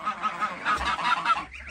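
Geese honking close by on a village farm in Turkey, a rapid series of repeated nasal honks from a small flock over a couple of seconds.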